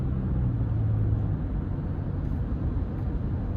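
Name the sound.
2025 Toyota Sienna four-cylinder non-turbo engine accelerating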